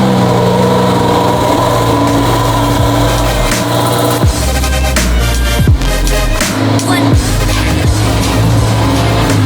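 Porsche GT3 R race car engine running loud and close, a raspy sustained roar with sharp revving bursts and throttle blips across the stretch.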